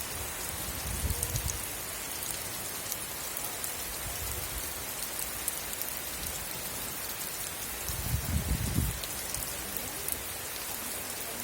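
Steady rain pours over a rural Sri Lankan village with rice fields and grazing cows and buffaloes, a dense, even hiss of drops close by, with a few heavier low swells and no voices.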